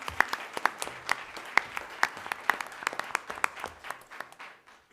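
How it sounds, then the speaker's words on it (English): Audience at a board of education meeting breaking into applause, a few seconds of scattered, fairly sparse clapping from a modest crowd in a room, fading out at the end. "we'll give a round of applause for Coach Hutter."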